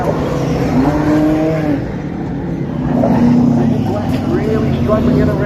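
Race cars circle Riverside Speedway with a loud continuous engine drone and rising and falling revs, under steady commentary.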